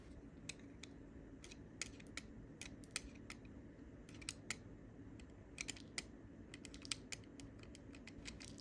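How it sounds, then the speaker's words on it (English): An X-Acto knife gently scrapes a candle, making a series of quiet, sharp little scratching ticks in irregular clusters with no voice over them. "I'm going to start off by gently scraping my candle with my X-Acto knife."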